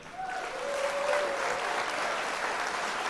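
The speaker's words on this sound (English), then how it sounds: "Give Dennis a nice warm round of applause" An awards ceremony crowd gives a warm round of applause for a presenter, a steady, full wash of clapping that swells quickly and holds, with a faint whistle-like tone briefly riding over it early on.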